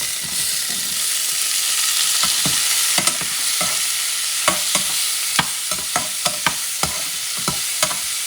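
Chopped Roma tomatoes fry in a pan under a constant loud sizzle, while a utensil stirs and taps against the pan in a quick run of sharp clacks, close up and with no talking.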